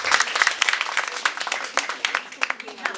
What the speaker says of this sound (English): Let's invite her with a big round of applause